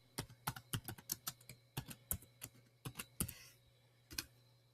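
Keystrokes on a computer keyboard while entering terminal commands, a quick irregular run of close, crisp clicks with short pauses between bursts, over a faint steady hum.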